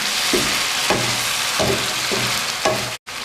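Chicken karahi frying and being stirred in a pan, a steady close sizzle with rhythmic scraping strokes of a spatula roughly every half second, loud and without talking.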